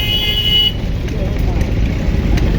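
Jammed road traffic beside a cattle market in Hazaribagh rumbles with engines idling close by, a brief horn tone sounding at the start before steady low vehicle noise continues.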